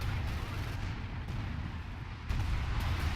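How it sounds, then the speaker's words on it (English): Panzerwerfer rocket artillery fire in a World War II strategy game battle near Tilly-sur-Seulles: a dense, continuous rumble of distant shelling and blasts, fairly faint, with a heavier thump surge near the end. "Is it artillery coming down here from the Panzerwerfers?"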